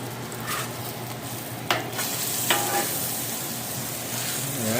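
Bacon sizzles and fries steadily on a 21-inch VEVOR flat-top griddle, a constant close crackle with a couple of sharp scraping clicks from a utensil.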